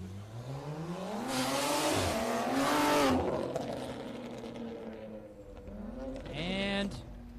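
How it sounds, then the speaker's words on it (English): A BMW M2 and other sports cars at an autocross event launch hard, engines revving up loudly in rising sweeps with brief tire squeal, then fading before another car accelerates near the end. "We have a nice M2 giving a nice launch over here"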